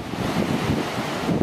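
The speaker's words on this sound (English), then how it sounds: "I'm sure you could hear the waves." Ocean surf on the Big Sur coast at San Simeon, a continuous rushing wash of waves mixed with strong wind buffeting the microphone, with no voices.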